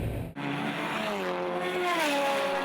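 Honda race car driving on a racing circuit, engine note rising through the revs with a clear upshift partway, loud and close, apparently from onboard.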